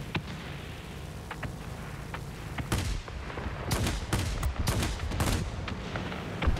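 Rapid bursts of aircraft cannon and machine-gun fire from the XP-58 Chain Lightning in World of Warplanes, dense crackling volleys over a constant engine drone, loud and close, growing heavier after the first few seconds.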